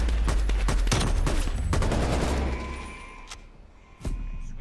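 AK rifle gunfire in a video game: rapid, loud automatic bursts fill the first half, then the shooting drops off to a couple of isolated single shots against a quieter background.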